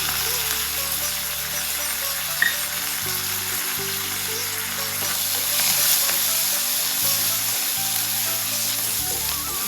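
Onion fries in hot oil with dried red chillies and curry leaves for radish chutney, giving a loud continuous sizzle up close, with occasional stirring scrapes and small pops over the crackling hiss.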